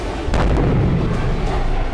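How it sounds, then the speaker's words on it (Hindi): A missile strike explosion during repeated Russian strikes on Kremenchuk, Ukraine, a single loud blast at about a third of a second followed by a sustained low roar and rumble that stays loud to the end. "रूस ने क्रेमेंचुक पर एक के बाद एक 22 मिसाइल हमले किए हैं।"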